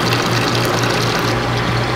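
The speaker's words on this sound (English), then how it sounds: "It's adjusting the water level a little bit." A Giantex washing machine pumps water to adjust its fill level, giving a steady, even whoosh with a low mechanical hum throughout, close and continuous with no pauses.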